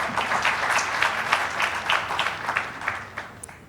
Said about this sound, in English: So a big round of applause for Santosh, please.